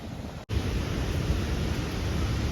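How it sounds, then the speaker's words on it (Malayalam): Monsoon stream at Anchuruli rushing hard, a steady broadband roar of turbulent water close by, briefly cut for an instant near the start, then continuous and loud with no voices. "അവിടെ വെള്ളം അങ്ങനെ തകർക്കുന്നുണ്ട് കേട്ടോ"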